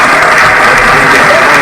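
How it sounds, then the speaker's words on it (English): A round of applause during a livestream, heard as a dense, loud, continuous burst of clapping with some crowd noise, short and unbroken with no talking over it. "round of applause for that."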